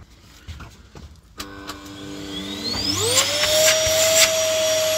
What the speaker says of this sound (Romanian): hai să facem un test la aspirator